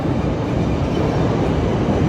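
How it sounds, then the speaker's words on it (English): A train rolls into a station with a loud, dense rumble and roar that fills the whole span, steady and close with no voices over it. "okay, here my train comes."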